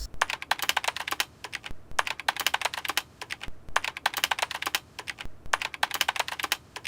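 Close, brisk typing on a computer keyboard, quick clustered key clicks in three bursts with brief pauses between them, no speech.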